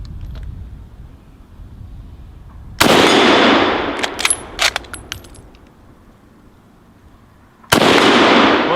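SMLE MkIII bolt-action rifle firing at steel plates, two loud sharp shots several seconds apart, with metallic clicks and clatter of the bolt being worked in between.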